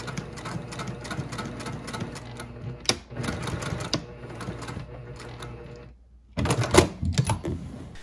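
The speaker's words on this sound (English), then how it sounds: "we're going to sew right down the edge using a nice long stitch" A sewing machine runs a long stitch down a 1/4 inch seam on a bag, giving a rapid mechanical chatter in steady runs broken by short pauses, close by and moderate in level.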